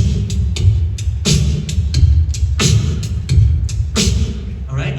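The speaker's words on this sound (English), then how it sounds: "swing makes the first part of the beat just a little bit longer and the second part of the beat just a little bit shorter" A swing-feel beat with a bouncy long-short rhythm from an a cappella group, regular percussive hits pulsing steadily over a low, busy backing, loud and close.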